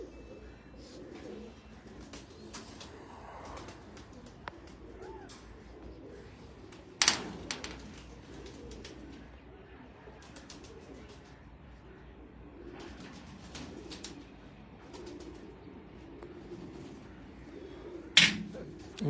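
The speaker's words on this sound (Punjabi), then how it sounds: "ਅੱਲਾ ਦੀ ਰਹਿਮਤ ਨਾਲ ਚੈਂਪੀਅਨ ਕਬੂਤਰ ਹੈ।" Champion pigeons on a rooftop give soft, intermittent coos under steady outdoor background noise, with two sharp, loud clacks partway through, likely wing claps.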